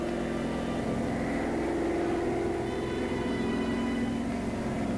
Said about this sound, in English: German reconnaissance plane.